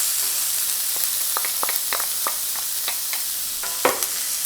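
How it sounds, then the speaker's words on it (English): Onions sauteing in a pan for rajma masala, a steady hiss of frying with scattered clicks and taps of a utensil stirring, close and continuous with no talking. "First I'm going to add the onions and saute it"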